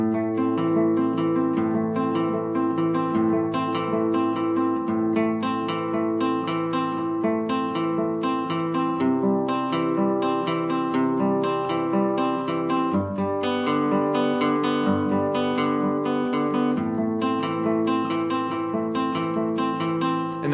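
A beginner guitar fingerpicking pattern played with three fingers in an altered time signature, steady plucked notes ringing into each other in a continuous, even rhythm with no talking.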